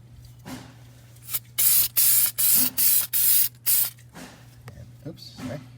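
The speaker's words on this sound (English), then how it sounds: "I just sprayed some cleaner there" An aerosol cleaner sprays onto a leaking wheel hub of a Wanderlodge bus in several loud, close, evenly spaced hissing bursts, followed by quieter rustling and brief low talk.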